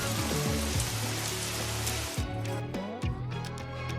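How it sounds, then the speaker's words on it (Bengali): Rain falls in a dense, hissing shower under a backing of music, holding steady for about two seconds before the downpour noise drops away and the music carries on. "আষাঢ় মাসে বাদল নামে।"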